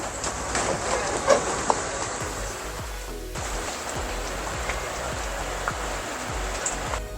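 Rain begins falling outdoors as a steady, moderately quiet hiss with scattered drip and patter sounds, a few sharper drops standing out near the start, and no talking.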